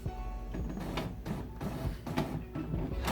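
A Brother MFC-J4510DW inkjet printer runs print head alignment, giving a steady mechanical whir with repeated carriage movements and clicks, continuous and close at moderate loudness.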